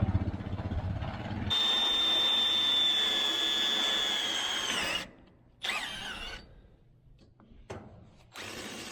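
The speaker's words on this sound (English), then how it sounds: "The self-tapping screws drill better than the drill bit, so I started with that." A power drill drives self-tapping screws into a metal shed, starting with a low rumble, then a loud high whine as the screw bites, followed by short stop-start bursts and pauses.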